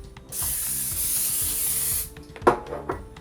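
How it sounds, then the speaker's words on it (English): Non-stick cooking spray hisses onto a baking pan in one steady burst of nearly two seconds, followed by a few short clattery knocks as the can is set down. "Next, we'll spray our baking pan with some non-cook spray"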